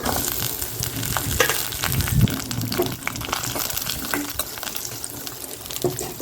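Garlic and onion fry in hot oil in a pan for cluster bean tamarind curry, a loud, continuous crackling sizzle broken by scattered sharp pops and a few stirring knocks.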